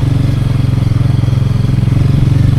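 A motorcycle is ridden on a mountain road, its engine throbbing loud and close in a steady, rapid pulsing rhythm, the note holding fairly even without speech.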